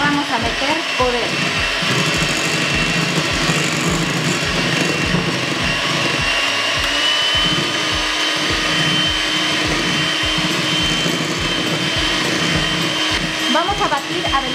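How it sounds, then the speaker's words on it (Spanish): An electric hand mixer running steadily at high speed, beating condensed milk and cream cheese for a lime topping, with a loud, constant whirring drone and a faint rhythmic thump of the beaters against the bowl. "Vamos a batir a velocidad alta."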